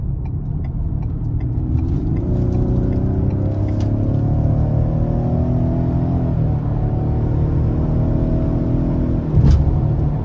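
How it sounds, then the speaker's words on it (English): A 2023 Ford Explorer ST-Line with a 2.3-liter turbo four-cylinder and 10-speed automatic accelerates up an interstate on-ramp, the engine droning and rising in pitch through a gear change, heard steadily from inside the cabin. "I'm gonna give it some getting on the interstate here."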